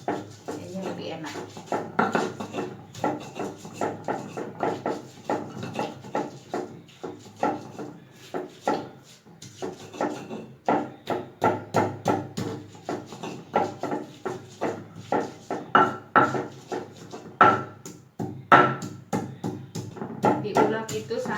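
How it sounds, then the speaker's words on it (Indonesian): Fish being pounded and ground with a stone mortar and pestle (ulek) for Ambonese yellow fish soup, a steady run of knocking and scraping strokes in uneven rhythm, close and moderately loud. "Tapi kalau ikan tuh kayaknya enakan diulek seperti ini ya"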